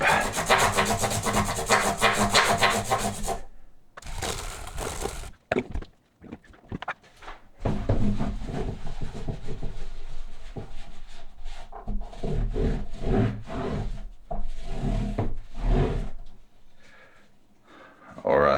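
A brush scrubs a 12-string guitar during maintenance in quick, close, raspy back-and-forth strokes that come in bursts separated by short pauses, with a voice talking over parts of it.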